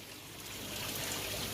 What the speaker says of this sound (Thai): ดูดน้ำแล้วก็ ทำเป็นม่านน้ำตก ข้างบนนี้ครับ